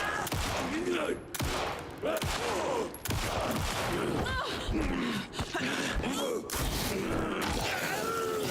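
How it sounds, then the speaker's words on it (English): Gunfire in the video game Alan Wake 2 rings out as a series of sharp, separate shots spaced a second or so apart, with grunts and effortful breaths between them. "I'm trying to shoot it."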